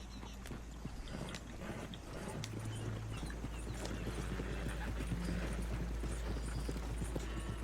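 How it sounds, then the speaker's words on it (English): Horse hooves clip-clopping at a walk in the video game Red Dead Redemption 2, a steady, moderately close rhythmic clatter over a low background hum, with no talking. "El caballo me ha seguido, está aquí conmigo."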